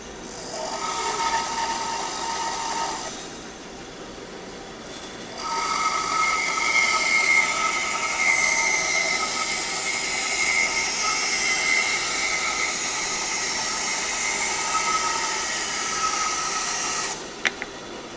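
A convex curve cutter makes a cut: a hissing, whirring power-tool sound runs briefly, drops for a couple of seconds, then resumes steadily for a longer pass before ending with a sharp click.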